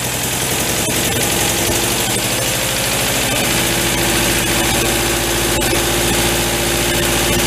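An MG TD roadster, a barn find parked for 45 years, idles steadily while warming up, its engine a close, continuous low rumble with an even, slightly uneven pulse and no talk.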